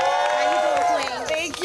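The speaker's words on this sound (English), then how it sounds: "Y'all give her a round of applause." Cheering and applause rise from a crowd at a housing-justice rally, loud overlapping shouts and whoops with clapping mixed underneath, sustained through the moment.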